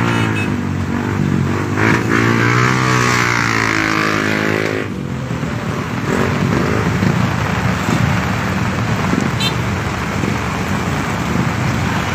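Motorcycles stalling and struggling through deep flood water on a road near Indorama in Cilegon, with steady engine drone and revving beneath heavy rain or water noise, continuous and fairly loud throughout.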